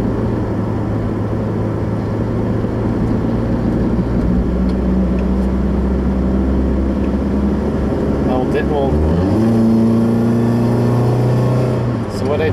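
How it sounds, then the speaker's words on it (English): A car with an F4A42 automatic transmission accelerating hard on a road, engine drone steady inside the cabin, then a downshift with the engine note rising sharply, loud and continuous throughout. "So what I did there was to just step on the gas and have it downshift."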